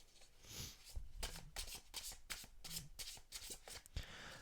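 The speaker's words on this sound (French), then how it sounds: "c'est pas évident à brasser les cartes" Tarot cards being shuffled by hand near a microphone, a rapid series of soft riffling flicks and slaps in irregular bursts, close and fairly quiet, with no talk.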